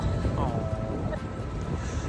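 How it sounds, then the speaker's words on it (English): Wind buffets the microphone with a low rumbling roar by a lake, while a voice speaks faintly under it. "Sorry if it's windy"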